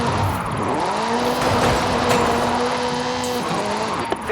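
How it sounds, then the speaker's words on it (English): Game-simulated 2-litre turbocharged Ford Focus RS RX, Ken Block's Hooligan Gymkhana 10 car, droning at a steady pitch with a rising and falling rev, close and continuous with brief tire noise near the end. "This is Mr. Kenneth Block's Hooligan Gymkhana 10 Ford Focus RS RX"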